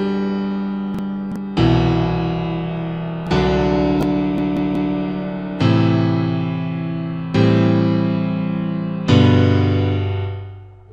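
Chillout trance melody produced in FL Studio, a synth line of five evenly spaced chord stabs, each swelling and decaying before the next, with a few bright plucked notes in between, played alone without talking.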